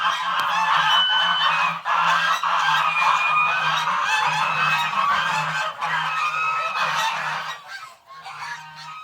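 Geese, including a gander, honking loudly and nearly without pause in a dense, overlapping chorus of nasal calls up close, with a lower steady murmur beneath, the calls briefly thinning near the end.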